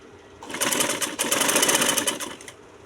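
A sewing machine stitches fabric for a co-ord set in one continuous whirring run of about two seconds, starting and stopping cleanly against a quiet room.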